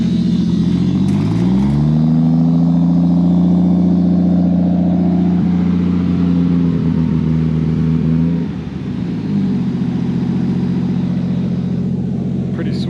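A Toyota Mk3 Supra engine idles loud and close, then revs up and holds a steady drone as the car drives out of a shop, dipping briefly near the end before settling again.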